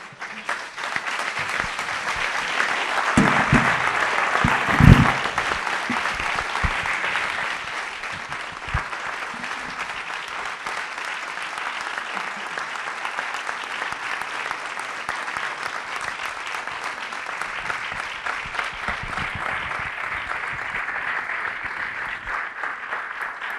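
A large audience applauds steadily at a literary talk, a dense, even wash of clapping lasting over twenty seconds, slightly louder and more varied near the start with a few stray shouts before settling.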